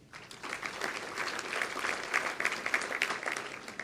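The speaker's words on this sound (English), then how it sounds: "Let's continue our applause" Faint, distant applause from an awards ceremony audience, a continuous wash of many hands clapping that swells slightly after a quiet start, with no talking.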